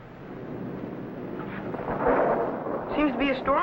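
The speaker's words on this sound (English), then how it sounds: "Seems to be a storm coming out." Low rumbling thunder from an approaching storm rolls in a 1950s television serial, building to a heavier swell midway, with a person talking over the end of it.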